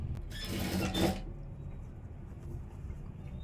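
A sewing machine stitches a blouse front in a short, quick burst of mechanical whirring lasting about a second, then falls quiet with only faint background hum.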